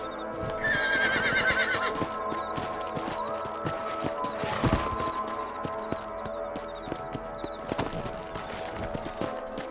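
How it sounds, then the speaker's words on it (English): Horses in the Red Dead Redemption video game give a loud whinny near the start, then hooves clop along steadily beside other game sound effects, with no one speaking. "Let's get back on the horses and see what else is going on."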